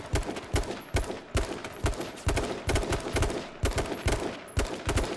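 Sustained gunfire in the video game H1Z1 comes as loud, evenly spaced shots, roughly two per second, over a constant noisy background with no talking.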